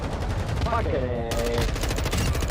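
Automatic sentry gun in a first-person shooter firing rapid sustained bursts, a dense steady rattle of shots over busy game noise, with a voice talking over it.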